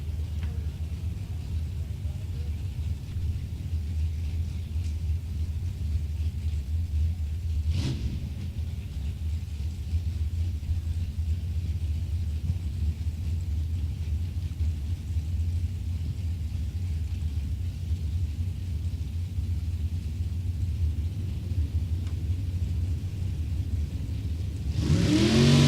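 A Super Street drag racing car makes a solo bye run at the Topeka drag strip, its engine holding a loud, steady rumbling roar for most of the run, with a brief sharp burst partway through and a rising surge at the end.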